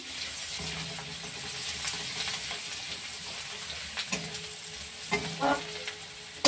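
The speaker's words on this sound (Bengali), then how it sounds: "এটা যতক্ষণ না একটু লালচে ভাব আসবে আস্তে করে নাড়বো ততক্ষণ অবধি।" Chopped onion fries slowly in a pan for a yellow-rice shrimp dish, stirred gently. A soft, steady sizzle carries occasional spoon scrapes and a few louder knocks near the end. No one speaks.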